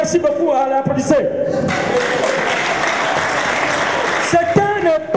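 Audience applause breaks out at a wake with comedy and dancing, a dense burst of clapping lasting a few seconds between bits of loud voices and thumps.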